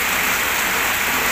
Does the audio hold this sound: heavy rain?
yes